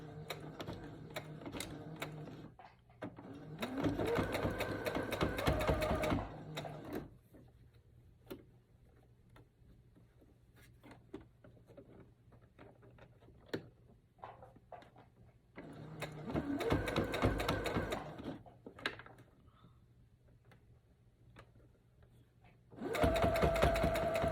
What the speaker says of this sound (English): I'm going to sew a straight stitch, making sure the back stitch